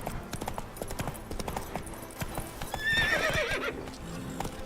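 Horse hooves clip-clopping through the Witcher 3 game world, followed by a bright, close whinny near the middle, over steady game ambience with no talking.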